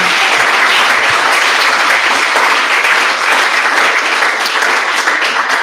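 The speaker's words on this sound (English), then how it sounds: "Yes, you can clap for that." Audience applause at a book presentation, loud, dense and sustained throughout, a steady wash of clapping with no voices over it.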